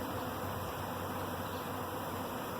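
A honey bee swarm hanging in a tree hums with a steady, dense buzz, a continuous drone of many insects close by with no pauses.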